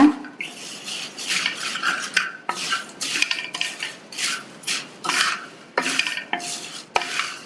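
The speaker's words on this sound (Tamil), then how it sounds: "லோ ஃப்ளேம்லேயே வச்சு நல்லா கலந்து கொடுங்க" Puffed rice is tossed in coconut oil in a pan over a low flame, a spoon scraping and rattling the metal in quick, rhythmic strokes, loud and close with short gaps between sweeps.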